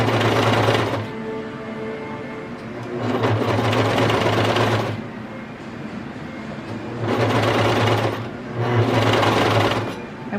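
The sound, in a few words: sewing machine stitching a kids' raglan T-shirt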